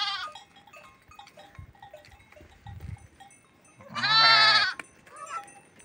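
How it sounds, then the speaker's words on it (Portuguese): A goat bleats once, loud and close, on a farm in the countryside during an afternoon of work, after several seconds of quieter farmyard sounds and faint bell-like clinks. "essa cabra chegou com o peito seco"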